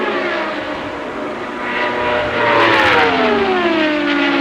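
Indy race cars at the 2000 Indy 500 roar past on the oval coming off turn four, a loud sustained engine drone with the pitch falling as the cars sweep by.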